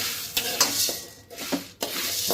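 Curry leaves crackling and sizzling in hot oil in a kadai for sambar powder, a steady hiss with sharp pops like peppercorns and stirring scrapes in the pan.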